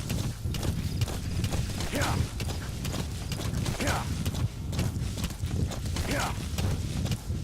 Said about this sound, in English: Ride, my pretty horse,